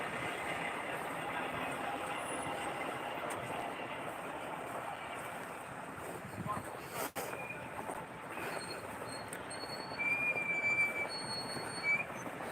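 Faint tram wheel squeals on rails, with thin high-pitched screeches near the end over a low rumble of passing rail traffic in an outdoor setting.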